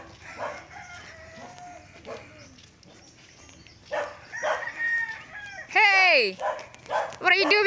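A dog barks in short bursts near the end while people talk, and a rooster crows in the background.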